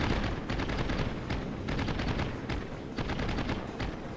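Rapid bursts of machine-gun fire from fighter planes dogfighting in the naval video game World of Warships, dense rattling volleys that continue almost without pause, loud and close, with no talking.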